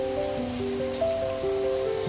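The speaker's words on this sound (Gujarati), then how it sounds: "ભાઈ આ સારું વરસાદ છે" Heavy monsoon rain pours in a steady, dense hiss over flooded village farmland, with a few low sustained tones humming beneath the downpour.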